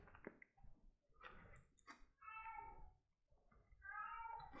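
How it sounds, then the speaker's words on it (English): A cat meows repeatedly from behind a closed door, several drawn-out, muffled cries in a row at moderate distance, separated by short pauses. "I got a kitty yelling at me"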